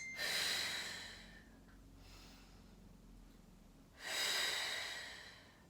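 A person doing a Pilates exercise breathes audibly, a strong exhale, a quieter breath, then another forceful exhale, close and alone with no talking.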